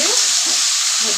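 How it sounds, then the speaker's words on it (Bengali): Flat beans fry in a pan with a loud, dense, close sizzle that holds steady throughout, with faint stirring movement underneath. "এবার একটু নাড়াচাড়া করে দিয়ে"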